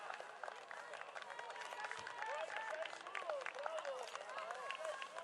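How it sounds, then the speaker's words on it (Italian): Spectators at the Pescantina cross-country race applaud a runner crossing the finish, a steady wash of clapping with a voice talking over it. "L'applauso è tutto per lui, Dylan Titon."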